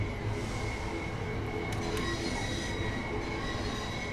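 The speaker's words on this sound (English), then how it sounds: "Oh, I like that flange wheel." Train wheel flange squeal from a rail vehicle on the East Coastway line in the Train Sim World video game, a steady rumbling run with a faint high squeal line held throughout.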